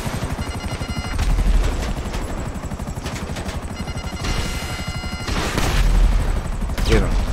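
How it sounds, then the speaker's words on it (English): Rapid automatic gunfire rattles in GTA Online, loud bursts of machine-gun shots in sustained rhythmic volleys with a few heavier booms between them. "They're shooting at us."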